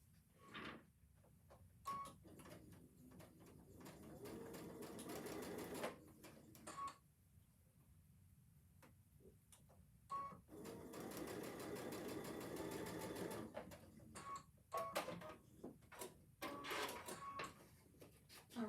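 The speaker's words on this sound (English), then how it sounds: "and you're going to sew those two pieces together." A sewing machine stitches two placemat fabric pieces together in several steady runs of rapid needle whirring, broken by short pauses and small clicks between seams.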